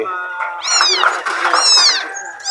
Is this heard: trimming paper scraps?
no